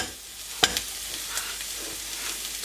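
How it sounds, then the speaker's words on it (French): Shallots dropped into a little oil in a frying pan, a sharp clack as they land followed by a steady soft sizzle, close and short with no voices. "Dans la poêle, je mets un petit peu d'huile. Et ensuite, je viens y déposer donc les échalotes."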